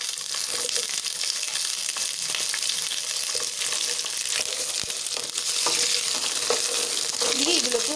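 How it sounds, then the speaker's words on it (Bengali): Potatoes, green beans and pumpkin frying in an oil-filled pan, a steady close sizzle with scraping stirs and spatula clinks throughout, rising slightly louder toward the end. "দিয়ে এগুলোকে আরও কিছুক্ষণ ভালোভাবে একটু ভেজে নেব"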